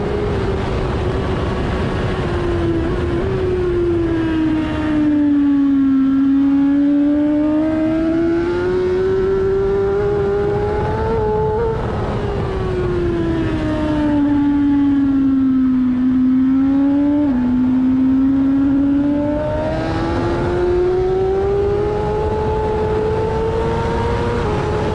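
A completely standard road motorcycle with long gearing holds a loud, continuous engine note at Donington race track, its pitch rising and falling through long pulls and gear changes.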